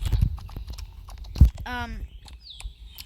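Quarter horse hooves clip-clopping on the ground in a video game, a string of light, evenly spaced knocks with one louder thud, plus a horse whinny trailing off near the end.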